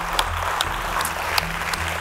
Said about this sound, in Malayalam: അതിന് ആദ്യം തന്നെ രാഹുലിന് ഒരു വലിയ കൈയടി